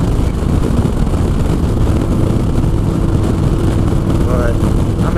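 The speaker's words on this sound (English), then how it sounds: "hear this sweet sound of the Evo engine and the Bassani exhaust" A 1996 Harley-Davidson Softail's Evo V-twin engine with a Bassani aftermarket exhaust rumbles steadily and loudly throughout, with a deep throaty exhaust note and constant wind noise from riding.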